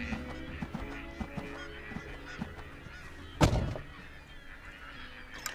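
Pintail and green-winged teal ducks call across a wildlife refuge on the Great Salt Lake during fall migration, a steady chorus of honks and quacks at moderate distance with one louder burst partway through.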